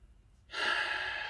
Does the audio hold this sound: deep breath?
yes